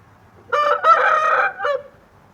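A fighting-breed rooster crows once nearby, a loud multi-part cock-a-doodle-doo lasting about a second and a half, followed by a short trailing note.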